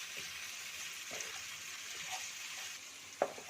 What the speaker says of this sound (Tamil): ஆயிலில் ஃப்ரை பண்ணுங்க நல்லா.